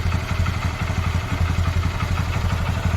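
A Honda Dream Yuga motorcycle with a freshly replaced clutch plate runs at a steady idle, a loud, close, even engine putter with a faint mechanical clatter, and nobody speaks.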